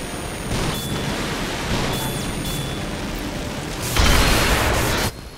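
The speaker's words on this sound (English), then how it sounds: "The missiles are on him." Missiles strike and explode on a tank in Armored Core Verdict Day, a loud, continuous roar of blasts and rumbling noise, with a heavier burst near the end before it cuts off.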